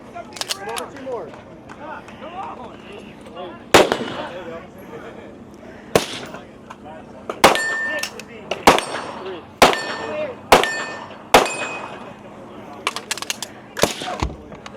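Sharp gunshots crack out one after another at a shooting match stage, with several distinct steel targets ringing on impact. The shots come in a paced rhythm, close and loud, while a person talks in the background.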